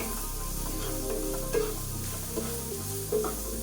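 Onions sizzling and frying in oil in a pan during home cooking, a steady close hiss with occasional louder pops and stirring scrapes, no voices.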